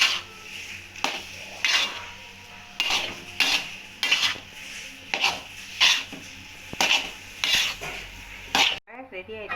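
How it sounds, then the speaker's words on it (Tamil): A spoon stirs rice upma with grated coconut in a pan, making rhythmic scraping and clinking strokes with a light sizzle underneath. No one talks. "தேங்காய் பூ போட்டு நல்லா கிண்டி விடுங்க"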